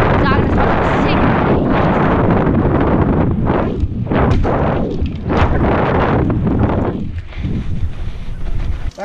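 Heavy wind buffets the microphone outdoors at a dirt jump spot in Berlin, a loud continuous rumbling roar with gusting surges throughout and a voice faintly mixed in.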